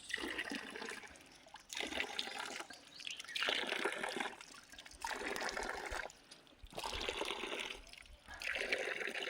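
Natural water flows and trickles steadily in soft, recurring swells at Gadhgumli in Kutch. Faint bird calls can be heard in the background.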